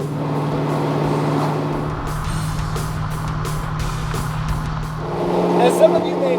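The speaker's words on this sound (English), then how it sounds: "Heading out, burning some miles in the Mustang." Vintage Ford Mustang cruising on a road, a steady low engine drone with road and wind rush, climbing slightly toward the end, heard under someone talking.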